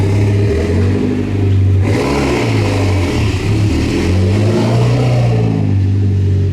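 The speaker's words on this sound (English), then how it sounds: "I have a straight piped, loosed exhaust Evo, but it is boosting perfectly." A Mitsubishi Lancer Evolution X with a straight-piped exhaust revs loudly and close, its deep droning engine note rising and falling through several throttle blips over a continuous rumble, with no talk.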